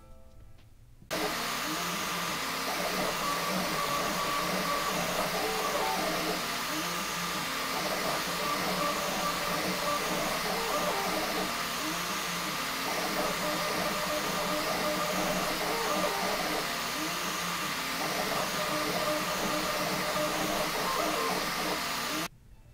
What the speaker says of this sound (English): it's a little loud when it prints. It's mostly coming from the motors, it's not really the fans